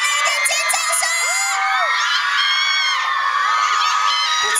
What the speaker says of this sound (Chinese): 呼声极高哦，呼声极高哦，再来一点尖叫声，